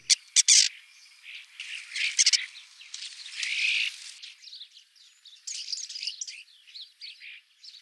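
Small finches, sparrows or greenfinches feed on sunflower seeds in winter, giving bursts of sharp chirps and squawks that come and go over several seconds, fairly close, with no voices.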